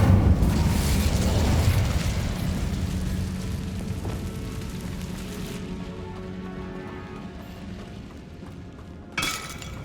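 Incendio fire spell cast in Hogwarts Legacy on PS5, a loud crackling, shattering burst of flame that rolls on and slowly fades, with a brief sharp crack near the end.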